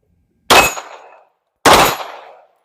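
Two sharp, loud gunshots from a Canik Rival pistol ring out about a second apart, each with a short echoing decay, alone with no talking.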